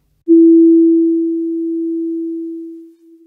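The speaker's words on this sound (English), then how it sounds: "a third sound was created called the third harmonic, and that was at three times the rate of the fundamental, at 330 hertz" A pure, isolated 330 Hz sine tone, the third harmonic of a harmonic series, sounds steadily and alone for about three seconds before fading at the end.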